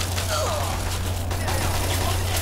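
Gunfire in the Fallout 3 video game, heard as a few sharp cracks over a constant low hum, short and fairly loud.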